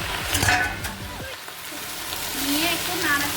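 Greens being stirred in a hot pan just after the lid comes off, a steady sizzling fry with scraping and stirring sounds close by, carrying on without a break.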